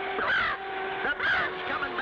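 A cartoon bird caws twice in harsh, drawn-out calls, close and clear over a steady low background hum.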